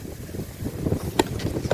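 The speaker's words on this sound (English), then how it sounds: "Gosh, it's really windy here." Strong wind blowing outdoors on a mild January day, heard as a steady, loud low rumble buffeting the microphone, swelling and easing in gusts, with one brief sharp knock partway through and no talking.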